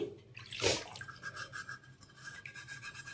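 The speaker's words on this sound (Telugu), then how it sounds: "ఇప్పుడు ఇలా ఒక స్క్రబ్బర్ ఏదైనా ఉంటే తీసుకొని" Brass household item scrubbed with a scrubber, a close wet rasping burst near the start followed by softer, steady rubbing strokes.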